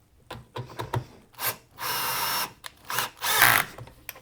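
A power drill drives pocket-hole screws into wood for a small table, several short whirring bursts followed by longer, louder runs of the motor, close up.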